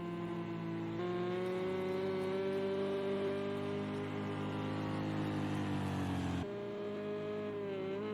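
Corvette V8 and Ford GTE race cars lapping the Nürburgring near a hairpin, a sustained loud engine drone with a high whine over a throaty rumble, pitch shifting as the cars brake and accelerate, no talk.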